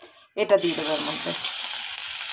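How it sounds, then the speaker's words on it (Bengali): Five crushed garlic cloves drop into hot oil, already holding fried dried chillies, and burst into a loud, steady sizzle right after a short spoken phrase. "এইবার আমি দিয়ে দেবো এই যে 5 কোয়া রসুন থেতো করে রেখেছিলাম"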